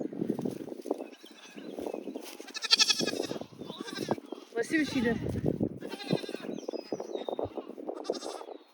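Goats on a farm, including part La Mancha kids, bleat now and then beneath nearly continuous conversation from several people nearby.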